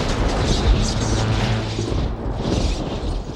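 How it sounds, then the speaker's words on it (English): Lightning bolt blast sound effect for a storybook scene: a sustained, loud, rumbling boom with crackling noise that fades slightly toward the end, heavy and close, with no talking over it. "A bolt charged toward Nyx. Gruff saved her by taking the blast."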